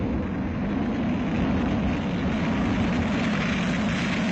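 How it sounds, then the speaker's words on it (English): Steady, loud roar of the Concorde 001 jet airliner's engines during its takeoff run, a continuous broadband rumble with no pauses and no talk. "Concorde accelerates."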